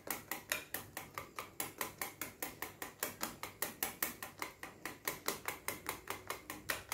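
Custard vanilla sponge cake batter beaten by hand in a bowl, a steady fast rhythm of sharp clicking strokes repeating evenly throughout, close and alone.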